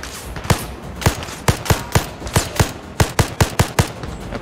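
Rapid bursts of gunfire from the shooter game Zero Caliber, about a dozen sharp shots in uneven clusters, loud and close with no talking.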